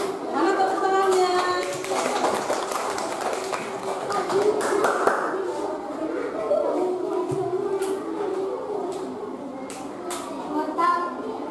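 Schoolchildren in a classroom clap their hands in several rapid rounds of crisp slaps, separated by a teacher talking and children's voices.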